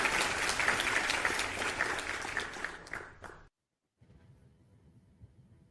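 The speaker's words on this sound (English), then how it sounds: "That's applause." Stadium crowd applause at a Manchester City away match at Wolverhampton, a broad roar of clapping that fades out and cuts to near silence, leaving faint low background sound.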